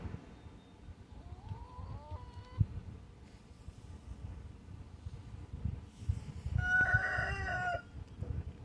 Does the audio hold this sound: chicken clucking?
yes